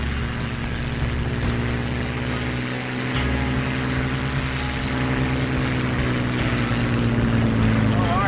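A P-51 Mustang propeller fighter runs at takeoff power, a steady droning engine and prop roar with a strong low hum and a high-pitched rushing layer, with someone talking over the sound.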